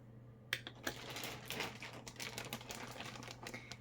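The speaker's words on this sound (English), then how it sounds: "I'm sorry for the crinkling" Plastic packaging around a yarn haul crinkles and crackles close by as it is opened, faint and steady with irregular sharp rustles over a low background hum.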